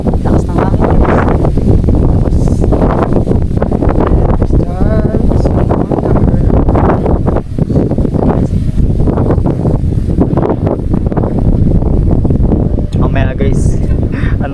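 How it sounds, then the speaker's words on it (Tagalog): Strong wind on an island buffets and roars across the microphone without letup, loud and gusty, with a voice talking under the noise at times. "Lakas ng hangin"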